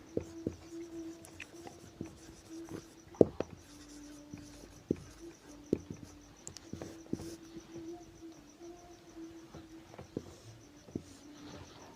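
Numbers are handwritten in short, faint scratches of pen or pencil on paper, with intermittent taps in a quiet room and no talking.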